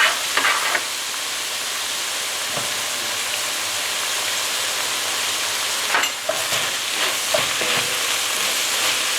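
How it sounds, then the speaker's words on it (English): About a teaspoon of chopped garlic fries in a pot with bison meat and vegetables, producing a constant dense sizzle like rain, broken by a few stirring scrapes and knocks. "Forgot to add the garlic at the end of cooking the vegetables, so I'm going to add the garlic now."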